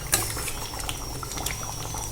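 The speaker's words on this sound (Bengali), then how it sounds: "আমি এটা আর কিছুক্ষণ একটু কষিয়ে নেব।" Mutton sautéing in a pan for kasha gives a steady, soft sizzle and bubbling that runs evenly throughout, with a brief sharp tick near the start and no voices.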